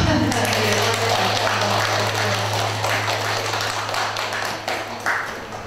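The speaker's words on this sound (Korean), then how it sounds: "박수가 필요합니다." An audience at a book concert for a title on young people's lives applauds in a continuous, even wash of clapping, with a low hum running underneath throughout.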